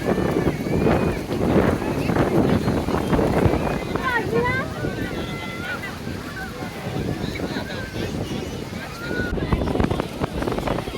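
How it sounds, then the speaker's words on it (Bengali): Sea waves breaking on the beach at New Digha: a continuous broad roar of surf mixed with wind buffeting the microphone, with faint voices in the background. "সাদা সাদা ঢেউগুলো আসছে"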